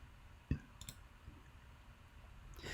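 A few sharp computer mouse clicks while editing a video in After Effects, near and quiet, with one crisp click standing out amid faint desk noise.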